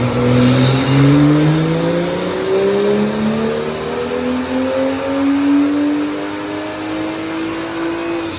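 A BMW N55 engine on a stage 2 plus tune revs hard on a dyno, pitch climbing through several gear pulls with brief dips between them, loud and close with no talking.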